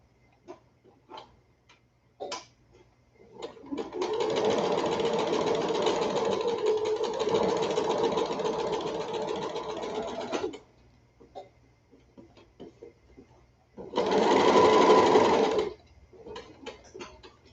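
A sewing machine stitches an animal-shaped pillow in two runs, a long steady whir of about six seconds followed by a shorter burst, with quiet ticks and handling between them.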